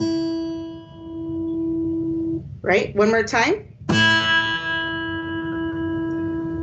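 A low string on a stringed instrument is struck and rings out with a sustained, bright tone full of layered overtones, cut briefly by close speech before being struck again and ringing on loud and near.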